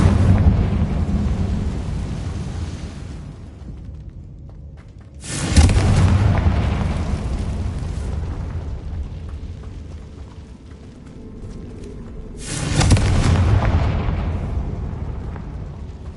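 Two Confringo fire spells explode in a Hogwarts Legacy catacomb, each a loud sudden boom with a long rumbling, crackling tail, the blasts spaced several seconds apart over a low ambient drone.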